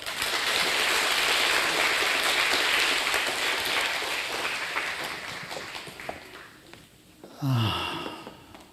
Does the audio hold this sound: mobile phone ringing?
no